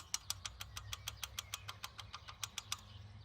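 A Mitsubishi Lancer Evolution X engine running with a loud mechanical timing-chain rattle: sharp, evenly spaced ticking clatter repeating about five times a second over a low idle hum, close up, with no talking.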